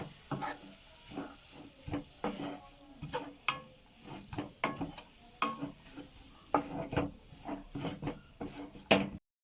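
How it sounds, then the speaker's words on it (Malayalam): Chilli and turmeric powder masala is sautéed in a pan, with a soft, steady sizzle beneath repeated scraping strokes of a spatula in an uneven rhythm that keeps going for several seconds, close and fairly quiet. "മുളക് പൊടിയും മഞ്ഞൾപ്പൊടിയെല്ലാം തന്നെ അല്പം ചേർത്ത് കൊടുത്താൽ മതി ഒന്ന് വഴറ്റി കൊടുക്കണം"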